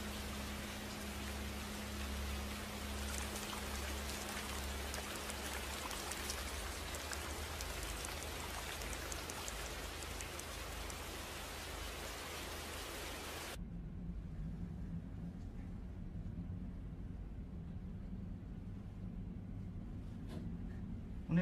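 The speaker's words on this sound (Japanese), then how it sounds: "この雨やむかな。" Steady rain falling, heavy and close for most of the stretch, then shifting abruptly to a quieter, more distant patter with a low hum underneath; no voices.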